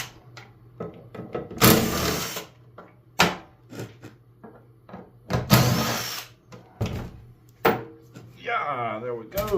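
A socket wrench works on a PTAC unit being scrapped, sharp metallic clicks and clanks scattered through the stretch, with a few longer bursts of grinding rattle over a low steady hum, plus a brief squeaky sound near the end.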